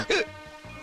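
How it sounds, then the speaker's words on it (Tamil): A single sharp hiccup near the start, followed by quiet background and a faint low murmur. "நான் விக்கல் சத்தம் வித்தியாசமா டபுளா கேக்குது"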